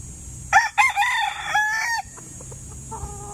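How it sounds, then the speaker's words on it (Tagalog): A gamecock of SBR bloodline lets out a loud, close crow at a game farm, followed by softer clucking from chickens nearby. "At tayo sisilip dito ng mga nakakording na mga manok."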